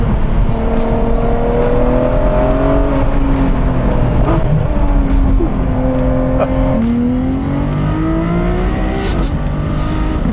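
A Ferrari 599 SA Aperta roars loudly while driving, its engine note rising and falling through sweeping revs and gear changes, continuous and close with no pauses.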